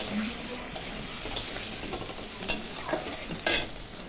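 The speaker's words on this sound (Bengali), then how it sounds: "মশলা দিয়ে এখন কষাবো।" Potatoes and pointed gourd are sautéed with spices in a pan: a low, continuous sizzle broken by stirring scrapes and a few sharp spoon clinks, close up and without talk.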